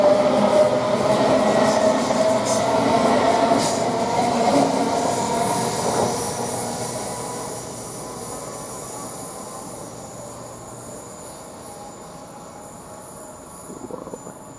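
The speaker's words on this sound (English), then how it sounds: "Now we're just leaving the 1540 from Newcastle to London King's Cross" The 15:40 Newcastle to London King's Cross passenger train pulls out of Durham station, a loud rumble and rail clatter close by that slowly fades as it moves away, with a faint squeal near the end.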